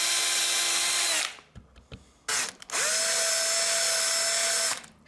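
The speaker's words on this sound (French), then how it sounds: "Chaque cheville est percée pour le passage de la corde." A drill bores a string hole through an ebony violin peg in a workshop, two loud, close bursts of whining motor with a steady pitch, separated by a pause with small knocks and handling clicks.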